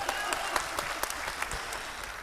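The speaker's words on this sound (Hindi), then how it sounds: "एक बार ताली बजाओ साहब सर।" Audience clapping at an Urdu mushaira poetry recital in Gandhi Sabhagar, Bettiah: a brief, steady burst of many hands with sharp individual claps standing out, moderately loud, with no speech over it.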